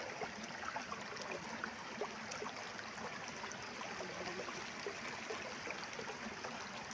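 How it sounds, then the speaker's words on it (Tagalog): A steady creek flowing through a garden trickles continuously, a soft, even wash of clear running water with no voices. "Ang linaw na ng sapa guys."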